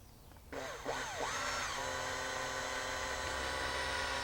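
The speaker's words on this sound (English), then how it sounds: "1/4 inch drill bit to come through this side." Electric drill boring a hole with a 1/4 inch bit through the jumbo flyer of a Kromski Minstrel spinning wheel: a steady, loud motor whine that swoops in pitch a few times as it starts, then runs evenly.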